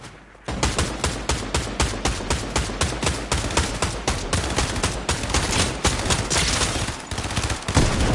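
Rapid, loud gunfire from a PC video game, with sniper rifle shots cracking out in a dense, continuous volley of sharp reports and no break for nearly the whole stretch.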